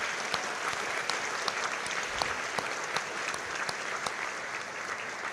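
Steady, dense applause from a large audience at a university alumni awards ceremony, sustained and even at moderate distance with crisp individual claps throughout.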